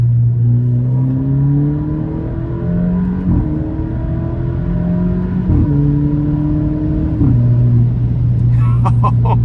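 Alfa Romeo Giulia four-cylinder engine pulling hard in third gear, its steady rising drone climbing in pitch, briefly dipping at shifts before climbing again, heard from inside the cabin.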